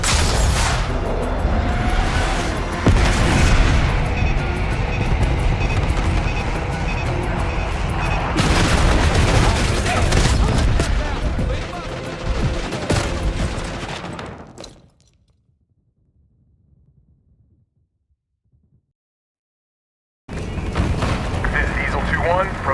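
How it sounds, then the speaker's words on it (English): Airstrike bombs explode in Call of Duty Black Ops 6, a sustained loud barrage of booms and blasts with gunfire, broken by a sudden near-silent gap before the din resumes. "Airstrike's over. Bombs away."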